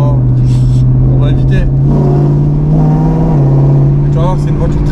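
A BMW M5 with a V10 engine runs close and loud, holding a deep steady drone that swells slightly in pitch midway, with people talking over it inside the car.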